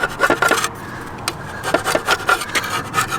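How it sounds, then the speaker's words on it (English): Old cork gasket material is scraped off a transmission pan in short, rasping strokes, coming in quick bursts with a brief pause in the middle, close and fairly loud. "We've got this crappy cork seal on this, so we were scraping it off."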